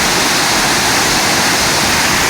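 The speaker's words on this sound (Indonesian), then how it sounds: "saya hanya dalam jarak 2 meter 3 meter saja dari air terjun, dari kolam yang amat deras" A powerful forest waterfall in Tasikmalaya pours hard into a deep pool just a few meters away, making a loud, continuous, dense roar with no breaks.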